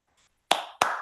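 Two sharp claps about a third of a second apart, loud and close after a faint murmur, a Charger clap from a Southeast Iowa sports talk show.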